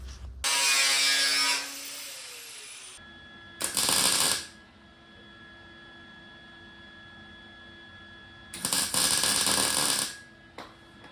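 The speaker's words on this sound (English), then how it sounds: "I'm gonna cut this down, grind it into the shape I need, and weld it on" An angle grinder shapes a metal part for a Harley-Davidson Sportster repair, whining in loud bursts of a second or two separated by quiet pauses with a motor's faint hum, and no speech.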